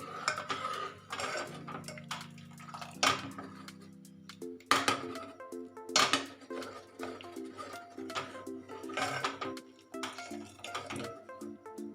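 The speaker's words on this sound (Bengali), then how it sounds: "এবার একটু নাড়বো, কেননা দলা পাকিয়ে যায় তো" Spoon scraping and knocking against a pot while milk, rice and rock sugar are stirred together, a series of irregular clinks and scrapes over soft bubbling, with no talking.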